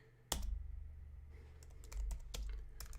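Rapid clicks of typing on a computer keyboard, a quick run of sharp keystrokes with a louder strike near the start and a few more spaced taps later, close and alone over a low steady hum.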